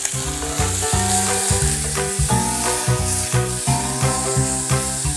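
Loud, continuous sizzling of chicken liver frying in a pan, heard up close with constant crackling and no talking.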